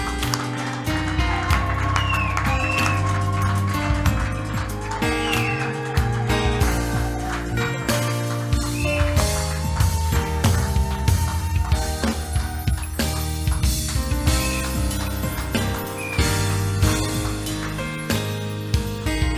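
A church congregation claps during a wedding blessing service, with many fast, overlapping hand claps over loud, continuous music.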